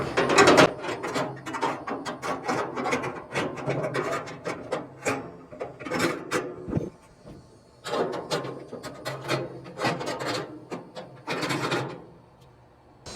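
Metal heat shields are clipped into notches inside a gas grill, giving repeated short clacks and scraping rattles of metal on metal in uneven bursts, close up and with no talking.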